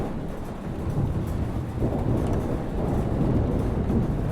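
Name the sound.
thunderstorm in the video game Life is Strange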